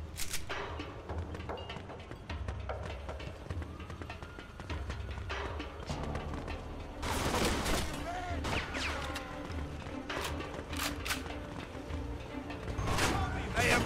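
Gunfire in the crime video game Mafia II: bursts of shots and heavy thuds crack through a low rumble, with dense volleys around the middle and again near the end, mixed with game voices.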